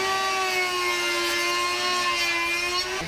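A power sander works along the edge of a solid wood table, giving a steady high whine with a constant hum, close and unbroken for a few seconds before a slight change at the end.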